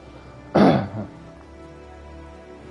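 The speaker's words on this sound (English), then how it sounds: "Yeah, I need to clear my throat again." Throat clearing by a man playing Fallout 76, a single rough burst followed by a shorter tail, loud and close over quiet background hum.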